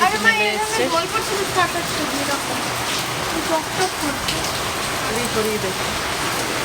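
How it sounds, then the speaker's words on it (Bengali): Steady rain pours down outside in a continuous hiss, heard from indoors with scattered drips of water leaking into the room and a voice speaking faintly underneath. "বৃষ্টি হচ্ছে বাইরেও"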